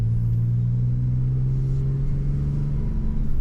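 A Cummins 5.9 diesel pickup truck climbs a hill in gear with a steady, loud, low engine drone and rumble that holds a constant pitch throughout, with no voices.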